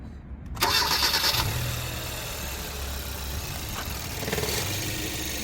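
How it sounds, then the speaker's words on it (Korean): A car engine cranks and catches, settling into a steady idle hum with a brief rev near the end, while testing newly replaced LED headlights; no voices. "시동 걸어야 불이 들어온다"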